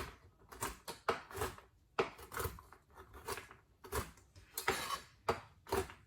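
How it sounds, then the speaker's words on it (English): A knife chops large Brazil nuts roughly on a cutting board, with a steady run of sharp, close knocks and crunches coming in uneven bursts, and no voices. "So I've got Brazil nuts here that I'm just going to chop up real quick."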